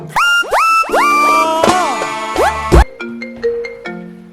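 A mobile phone ringtone plays for an incoming call, a bright melodic sequence of rising synthetic tones in quick repeating phrases, loud and close, ending in softer plucked notes.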